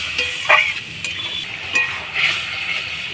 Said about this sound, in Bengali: দেখো বন্ধুরা গ্রেভিটা ফুটে এসেছে